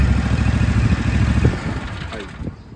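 A radio-controlled mower's engine, a Canycom machine, runs with a rapid, low, rhythmic chug, loud and close, then drops away near the end and fades out.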